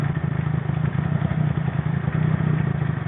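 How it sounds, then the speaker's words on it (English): A motorcycle engine idles close by with a rough, rapid low throb and light mechanical clatter, steady and loud with no voices. "I'm going to have to adjust that idle a little bit here."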